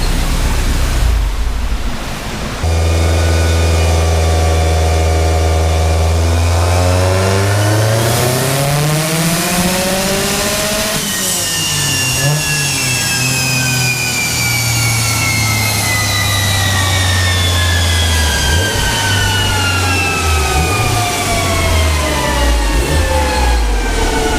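A Subaru WRX with a front-mount intercooler screams on a dyno, its engine note climbing steadily through the gears in long, loud rising sweeps, dropping briefly between shifts, with heavy roller and exhaust roar throughout.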